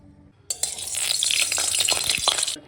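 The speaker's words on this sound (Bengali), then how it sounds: "প্রথমে তেল দিয়ে বড়িগুলো একটুখানি ভেজে নিতে হবে" Lentil dumplings (bori) hit hot oil with a sudden loud burst of crackling sizzle after a brief quiet start, spitting busily for about two seconds before cutting off.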